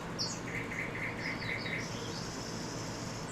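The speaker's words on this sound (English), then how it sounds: "melodic concerts of nightingales and frogs resound" Birds chirp at dawn in a forest, with a run of repeated bright whistled notes and thin high calls over a steady broadband hiss of ambient background.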